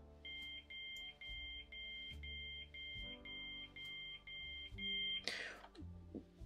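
Train door warning beeps in a railway video game sound as a regular series of about ten short, even electronic beeps over a low rumble, followed by a brief hiss and clunk.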